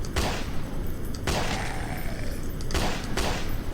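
Gunfire in a zombie video game: several sharp, loud shots with broad bursts, two close together near the start and more later, over a dense, steady game soundscape.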